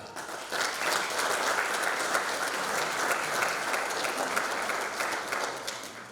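Sustained applause from a large crowd at a firefighters' day ceremony in Slovenia, steady dense clapping that fills the whole stretch and fades slightly at the very end.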